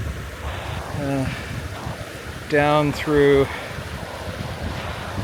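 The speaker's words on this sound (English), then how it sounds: "There's only the sound of the water" The Elbow River flowing upstream of Calgary gives a steady broadband rush of water with some wind buffeting, while someone speaks briefly over it.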